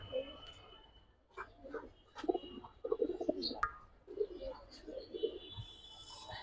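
Pakistani high flyer pigeons coo in soft, repeated throaty bursts close by, with brief gaps between phrases and a faint background hum.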